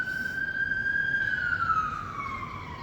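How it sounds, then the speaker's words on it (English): An emergency vehicle siren wails outside, a single rising then falling tone carrying from a distance over steady background rumble, with no voices. "Here comes the sirens"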